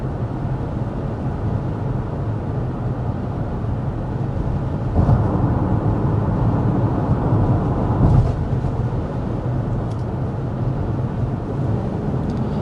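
Steady low rumble of road and tire noise inside a 2025 Mazda CX-50 Hybrid cruising at 55 mph with the fan on its lowest setting, a constant muffled drone with slight swells and no one speaking.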